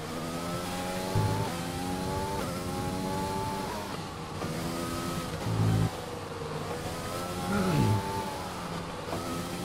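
Formula 1 car engine in the F1 2020 game during a practice lap at the Japan circuit: a continuous high, buzzing whine that climbs through the revs, dipping sharply at a few gear changes and braking points.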